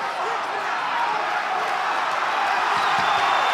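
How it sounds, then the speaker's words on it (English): Arena crowd at a UFC Fight Night event cheering and roaring for a fighter late in a round, a dense, steady wall of crowd noise with no clear breaks, sitting under commentators' voices. "The crowd certainly getting behind him."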